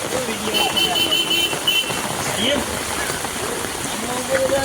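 Monsoon rain pattering steadily onto pooled water, a constant hiss of drops with children's voices and shouts mixed in over it throughout.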